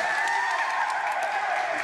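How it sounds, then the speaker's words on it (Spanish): A short burst of applause from a small group, steady clapping at moderate loudness with no voices over it. "Muchos aplausos y todo"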